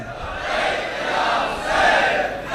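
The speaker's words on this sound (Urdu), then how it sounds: "دونوں ہاتھ بلند کر کے مونٹھیں بھیگ کر بلند آواز میں کہیں لبیک یا حسین" Large mourning crowd at a Muharram gathering chanting Labbaik ya Hussain in unison, a loud, dense wash of many raised voices swelling in two surges over a few seconds.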